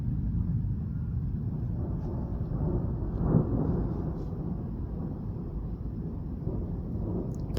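Thunder from a lightning strike during a strong August thunderstorm in Bordeaux: a steady, broad rolling rumble with a sharper crack near the middle that fades back into the ongoing roar.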